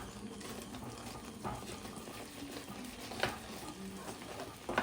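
Paneer upma with grated coconut being stirred in a pan, giving a steady low scraping and soft sizzle with a few sharper clinks of the spoon, close and fairly quiet.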